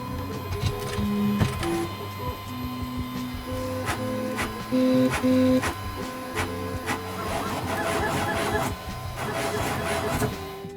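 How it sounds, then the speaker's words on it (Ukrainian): A BambuLab A1 mini 3D printer's stepper motors whine and buzz in shifting tones as the axes move back and forth on a new X-axis linear rail, with occasional clicks, close and steady. "щоб принтер трохи поганяв всі осі"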